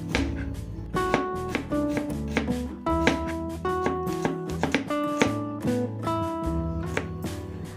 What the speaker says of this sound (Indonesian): Aku siapin 6 siung bawang merah dan juga 3 siung bawang putih,